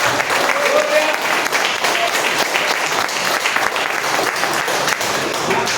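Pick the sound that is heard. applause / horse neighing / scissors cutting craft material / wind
applause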